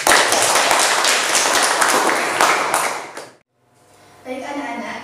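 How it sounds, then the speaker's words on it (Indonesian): A burst of group clapping in a classroom fills the first three seconds, dense and lively, then cuts off abruptly, followed by quieter room sound and faint talk. "Beri tepuk tangannya."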